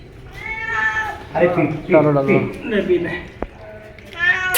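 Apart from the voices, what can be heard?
hungry cat meowing while given milk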